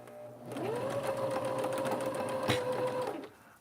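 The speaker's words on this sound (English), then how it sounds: "I just did a quick back stitch with the machine, and I'm just gonna sew, just sewing along" A sewing machine stitches curtain fabric for kitchen curtains, running in one steady, close whirring burst of about two and a half seconds, with no talking.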